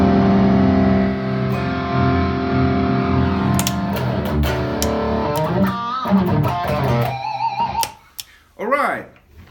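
An electric guitar played through a distortion pedal rings out with heavy distortion, sustained chords giving way to choppy notes and a final squealing bend.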